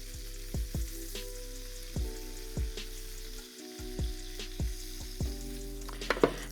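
Chicken breasts frying in a pan for chicken piccata, a steady sizzle under a run of sharp, regular clicks or taps, ending in a brief louder clatter.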